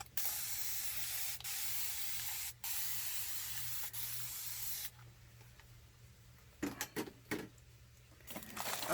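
Several long bursts of hissing spray from a pump bottle spraying Distress Oxide ink, close by, followed by quieter short squirts and faint rustling.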